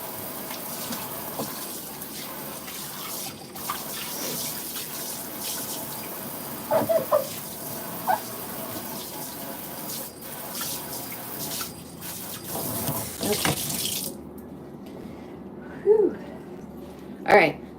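A kitchen tap runs steadily while food is rinsed during weekly meal prep, a soft continuous wash of water with faint clinks and brief handling sounds, stopping near the end.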